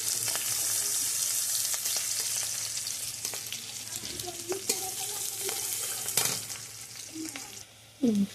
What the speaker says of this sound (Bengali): তেলটা গরম হয়ে এসেছে, পেঁয়াজ আর কাঁচা লঙ্কা দিয়ে দিলাম।